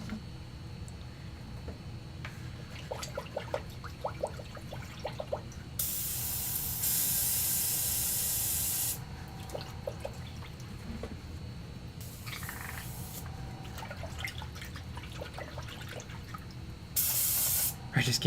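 An airbrush sprays paint onto Warhammer 40k Tau Stealth Suit miniatures in three bursts of close, hissing air, each lasting a few seconds, with small clicks and handling sounds in between.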